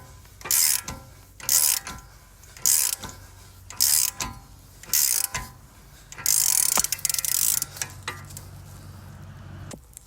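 A ratchet wrench turning a front wheel bearing bolt on a 2006-2010 Hyundai Sonata clicks in repeated bursts of rapid pawl ticks. Short pauses separate the bursts, then one longer run comes near the end, close up.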